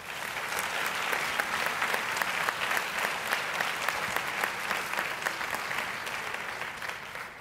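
Audience applauding at a school graduates of distinction ceremony, a dense, steady roar of many hands clapping throughout, loud and sustained without a break.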